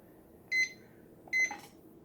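A kitchen timer gives two short electronic beeps about a second apart, clear and fairly close against a quiet room, with no talking over them.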